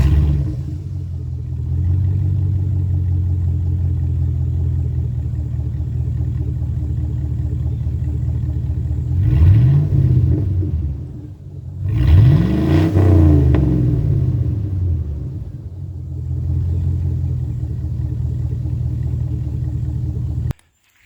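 A deep, rumbling 5.3 V8 in a 1999 Chevrolet Silverado with its muffler removed idles loudly and steadily, with two brief revs that rise and fall before settling back to a throaty idle.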